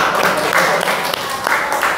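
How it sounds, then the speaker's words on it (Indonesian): Students in a high school classroom clap for a group that has just presented, a moderate, uneven burst of hands with voices talking over it. "Tepuk tangan."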